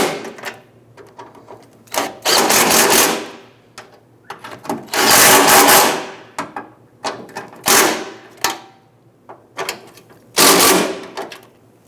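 Bolts on a 1997-2006 Jeep Wrangler front fender being snugged down with a power tool, heard as several loud, close bursts of whirring and rattling separated by short pauses.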